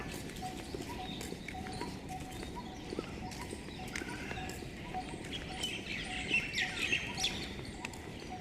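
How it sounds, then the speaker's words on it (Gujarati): Birds chirp and call in a park with peacocks, a temple, school and open grounds, scattered bright tweets rising over a busy background of clopping and ambient outdoor noise, with a denser burst of calls toward the end. "પક્ષીઓનો કલબલાટ છે"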